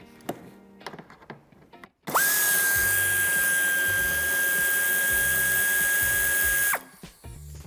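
A power tool removing a wheel arch screw on a 2019 Ford Focus IV estate, whirring loudly in one sustained steady run of about five seconds, preceded by brief clicks and handling noises.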